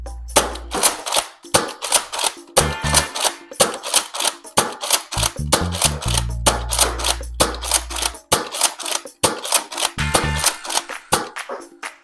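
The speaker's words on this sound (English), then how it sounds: "let's get to the firing test and see how the Rampage performs" Nerf N-Strike Elite Rampage blaster firing darts from its drum, a long series of sharp close plastic clacks and thumps, first spaced shot by shot and then in quicker runs of several, with priming rattles between them.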